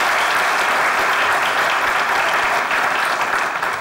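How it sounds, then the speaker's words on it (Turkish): A studio audience on a Turkish comedy show claps loudly and continuously in a dense, even wash of applause with no break. "Alkışlıyoruz Cihan abiyle Cemo'yu."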